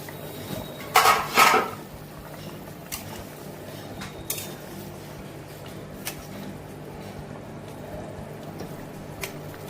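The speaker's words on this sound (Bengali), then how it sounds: "ঢাকাটা খুলছি বন্ধুরা" Metal lid lifted off a cooking pot in a home kitchen, a brief clattering scrape near the start followed by a few faint clinks over quiet background.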